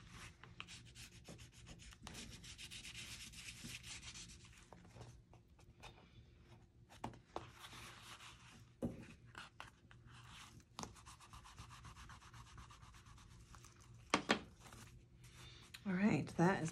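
A bone folder rubs and scrapes across paper in faint, close strokes, soft swishing that starts and stops irregularly while a person talks quietly.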